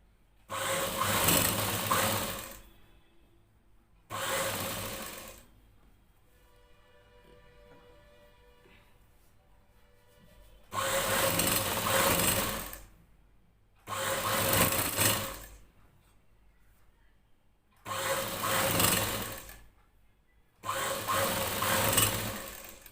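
An electric sewing machine stitches a plain blouse with a half-inch seam allowance. It runs in six loud, steady whirring bursts of a few seconds each, separated by quiet pauses, and no one speaks.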